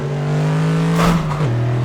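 A sports car engine at the Nürburgring revs loudly and steadily, its pitch surging briefly before dropping back to a lower idle hum, with no talking.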